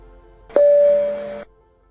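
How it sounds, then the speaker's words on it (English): A Dash 8 Q400 cabin plays the single high-pitched lavatory call chime, which is clear and sustained for about a second before cutting off in a quiet cabin. "a one-tone high chime"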